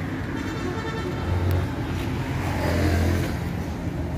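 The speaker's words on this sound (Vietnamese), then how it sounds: "Đây là động cơ, động cơ 5 ngựa 5 nha anh em." A Yokokala 5.5 hp gasoline engine mounted on a Mikasa MT-55L tamping rammer, brand new, runs steadily with a loud, continuous close-up drone that swells briefly twice, with no talk over it.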